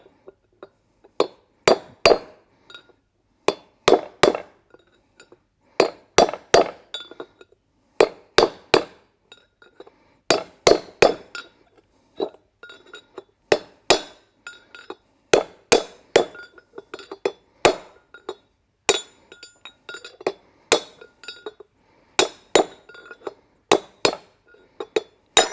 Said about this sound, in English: So we'll grab our heavy hammer